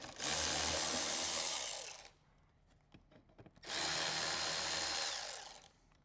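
Power tool backing bolts out of an American Hard Bag 5x7 to 6x9 speaker lid adapter, two loud sustained whirring runs of about two seconds each, separated by a short pause with light handling clicks.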